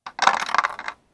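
Dice rolled onto a hard surface: a quick light tap, then a short clattering rattle lasting under a second, close and alone.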